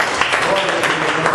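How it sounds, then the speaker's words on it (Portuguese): Congregation applauding in praise of God during a church service, a brief, steady wash of clapping from many hands filling the room. "Que as palmas louvem a Deus."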